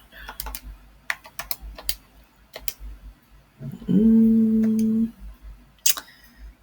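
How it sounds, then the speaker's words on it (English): Computer keyboard typing, with scattered near keystroke clicks in short bursts and a brief steady tone sounding partway through. "I just typed it out"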